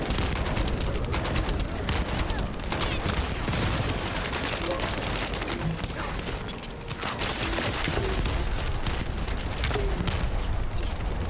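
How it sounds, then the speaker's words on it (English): Rapid gunfire blasts from a shotgun in the sci-fi shooter The First Descendant, repeated bursts over a dense, busy game soundscape with faint voices underneath. "and then you shoot it with a shotgun"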